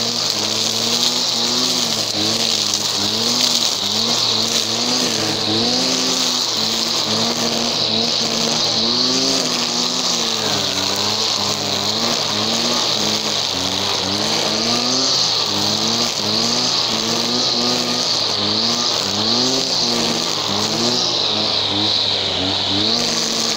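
Small engine of a brush-clearing machine running steadily at high revs, a continuous loud buzzing drone with slight pitch wavering, close and alone without talk.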